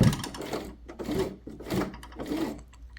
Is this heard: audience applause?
no